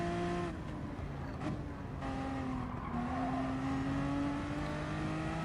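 Race car engines at Brands Hatch in Gran Turismo Sport, a continuous droning whine that rises and holds, with several cars blending together close by and no talk.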